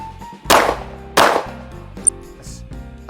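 Two loud, sharp gunshots from a Springfield Armory Echelon 4.0C compact pistol fired at a shooting range, spaced under a second apart, followed by a lighter metallic clink and faint ringing.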